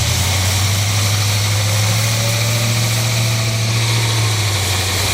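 A 1980 GMC van with a freshly rebuilt 350 cubic inch 5.7 liter V8 idles with a steady, loud, deep rumble and constant vibration close by, with no break or voices over the whole stretch.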